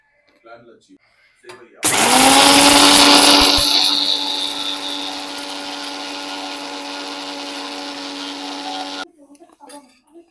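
A mixer grinder grinding coriander powder starts abruptly with a loud whirring roar, settles into a steady high-pitched drone for several seconds, then cuts off.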